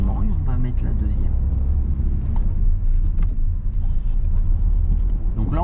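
A car pulls away gently during a driving lesson, its engine rumbling steadily and close throughout before easing into second gear, with people talking over the continuous drone.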